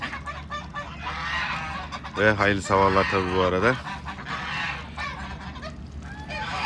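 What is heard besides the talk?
ducks and geese honking on a farm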